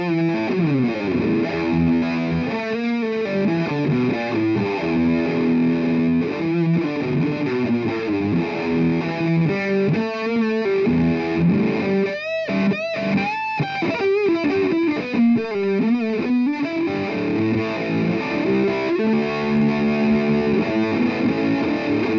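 Electric guitar lead played through a Carl Martin Purple Moon pedal with fuzz and Univibe, giving a thick distorted tone with a swirling, pulsing modulation, sustained and loud throughout with no talking.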